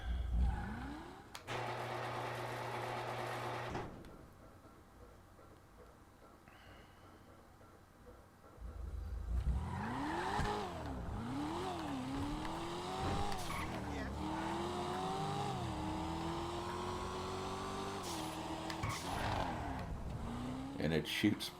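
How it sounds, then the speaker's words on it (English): A tuned car in GTA 5 Online on PS3 revs hard and accelerates with rising engine sweeps, tire squeal and exhaust pops under braking, loud and continuous after a quieter start. "you can hear that popping in the exhaust when you hit the brakes too"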